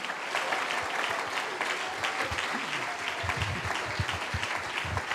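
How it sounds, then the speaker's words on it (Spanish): Church congregation applauding loudly during a morning outdoor service, a dense, steady wash of many hands clapping throughout, with faint voices mixed underneath. "Dele un aplauso fuerte al Señor en esta mañana"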